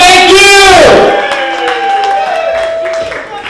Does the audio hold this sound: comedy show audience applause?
yes